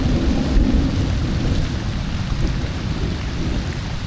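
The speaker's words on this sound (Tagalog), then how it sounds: "Walang tigil ang ulan." Heavy rain pours in a dense, continuous roar with deep rumbling thunder underneath at a lakeside campsite in Cavinti, Laguna, loud and close, with no voices.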